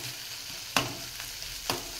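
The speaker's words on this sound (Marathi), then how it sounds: "तर आता मी चांगलं फ्राय करून घेते वाटण।" Spice paste for stuffed eggplant bhaji sizzles loudly as it fries, with two sharp spatula scrapes against the pan over a steady crackling hiss, close up and without voices.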